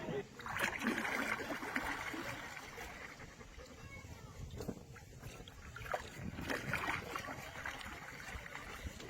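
A canoe paddle pulls through the water in a stern steering stroke, with steady washing and swishing swells that rise and fall under a continuous background of water and wind.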